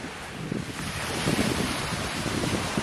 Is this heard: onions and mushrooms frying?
no